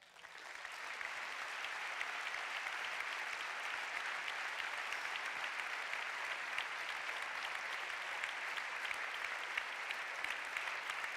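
A large audience at a ceremony presenting the Medal of Aragon to an Aragonese relief team in Catarroja claps in sustained, even applause. It rises quickly at the start and holds steady, slightly distant, for the whole stretch.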